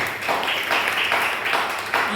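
A church congregation claps hands together in a steady, rhythmic beat at moderate volume, the claps blending into a continuous wash of applause.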